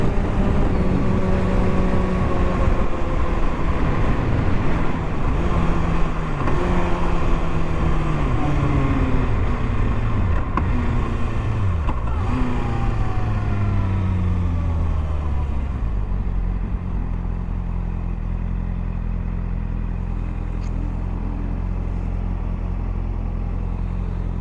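A Suzuki Gixxer motorcycle ridden at speed, its engine note sweeping up and down through revs and gear shifts, then settling to a lower steady rumble as it slows.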